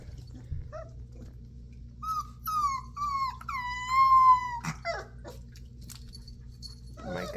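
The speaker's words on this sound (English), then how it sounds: "he's getting the malamute howl" An Alaskan malamute puppy about 25 days old whimpers, then lets out several rising, wavering little howls at close range, in a quiet indoor setting with a low background hum.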